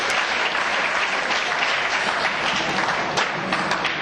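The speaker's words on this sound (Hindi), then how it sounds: "कम से कम ताली तो बता दीजिए यार" Students at a college NSS event applaud together, a dense, steady round of clapping that holds strong throughout.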